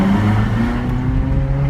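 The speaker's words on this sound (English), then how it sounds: "Now the exhaust right here in this tunnel, let's hear it." A Ferrari California's exhaust rumbles loud and close inside a tunnel, a deep steady engine drone with a slight rise in pitch over under two seconds, no voices.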